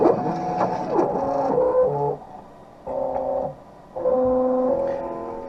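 Motorized optical lens edger frame tracer whirs as its stylus runs along the inner groove of a Ray-Ban 8416 frame, a close mechanical hum with shifting tones that stops and restarts in short bursts.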